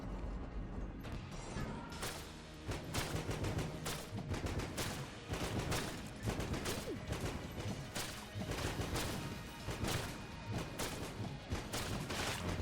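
A gun firing explosive shots in Enter the Gungeon pounds out a steady stream of loud, punchy blasts, dozens of sharp bursts in quick rhythm with metallic clatter, dense and continuous throughout.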